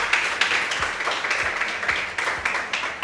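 A crowd applauding at a pageant camp event, with dense, continuous clapping that comes in uneven swells, fairly close, with no talk over it.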